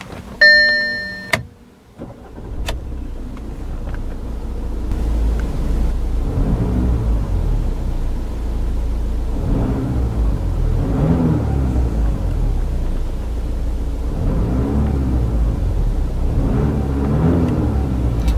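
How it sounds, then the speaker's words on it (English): A chime sounds briefly, then a 2012 Audi A5 S-Line coupe engine cranks, catches and settles into a steady, rumbling idle with periodic gentle swells. "let's power on the A5 and see how it sounds"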